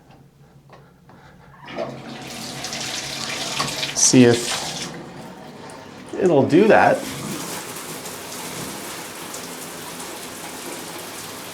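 Hotel suite shower overlooking the falls, turned on to test water pressure: steady broadband rush of running water starting after a brief pause, with short talk and a couple of louder splashes or knocks mid-stream.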